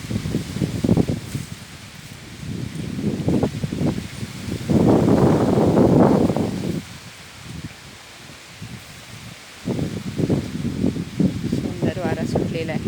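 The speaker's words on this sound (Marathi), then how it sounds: "सुंदर वारा सुटलेला आहे." Wind gusts roar through mango trees beside a sugarcane field on a late-May day, swelling into a loud rush and easing again, while a person talks throughout.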